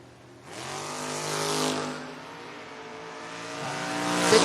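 A 1973 Pontiac Ventura and a 1980 Camaro launch off the line in a drag race. The engines burst into a loud, roaring rev that holds, dips slightly, then climbs again, close and alone, with no talk.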